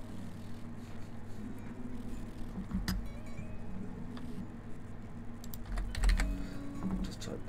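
Typing on a computer keyboard while setting up a game asset in Quixel: steady, close clicking of keys runs throughout, with a brief louder clack near the end over a low background hum.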